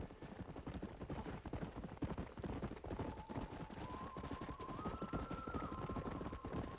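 Horse hooves clip-clop at a steady canter while riding in Red Dead Redemption, a quick even rhythm that stays close and moderately loud, with a soft tonal hum rising underneath partway through.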